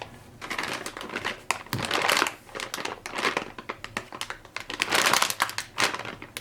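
Plastic packaging around a squishy toy package crinkles and crackles loudly and close up in rapid bursts as it is pulled open, with no talking.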